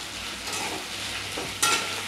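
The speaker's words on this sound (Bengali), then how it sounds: "এবার আমি এই ধুয়ে রাখা কাঁচকলা আলুটা দিয়ে দেব। গ্যাসটা আমি বাড়িয়ে দিলাম, ভালো করে নেড়ে দিচ্ছি" Raw banana and potato being stirred in a hot pan of oil over a raised gas flame, a steady close sizzle with soft scraping stirs and a sharp clatter near the end.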